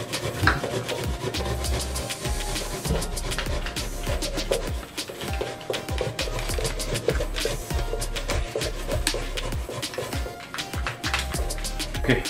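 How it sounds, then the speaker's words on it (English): Pumpkin being grated by hand sends out a quick, repeated scraping rasp in steady strokes, close and fairly soft, with faint kitchen clatter in the background. "Just make sure you don't grate on your finger when you grate the pumpkin."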